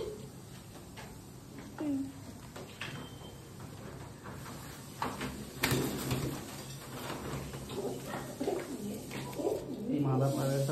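Pigeons in a breeding loft coo repeatedly, soft low throaty calls coming close and at intervals, while people talk over and between them.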